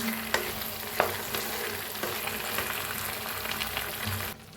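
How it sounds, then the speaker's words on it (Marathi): Chicken in masala fries over a low gas flame while being stirred, a steady sizzle broken by a few sharp scrapes of the spoon against the pan before it cuts off. "आता गॅस कमी करून एक मिनिटभर असं जरा फिरवून घेऊया"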